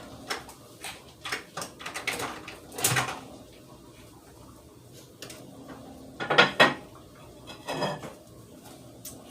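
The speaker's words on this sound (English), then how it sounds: "I always take the lid of the baker off first when I use it in the microwave." Lid lifted off a microwave baker after cooking spaghetti, with dishes and cutlery clattering in a home kitchen: several sharp clinks and knocks close by, in irregular bursts with quiet gaps between.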